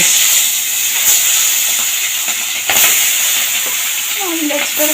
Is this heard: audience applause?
no